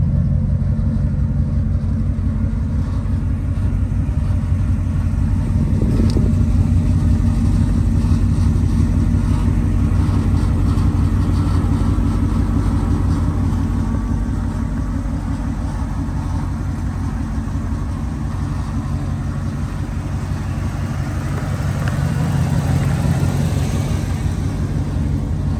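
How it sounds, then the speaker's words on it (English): A 1992 Ford F-250 XLT's 460 big-block V8 with dual exhaust idles continuously, a deep, steady rumble, low and throaty with a constant loudness and no revving or voices. "Dual exhaust is not too loud, very tasteful,"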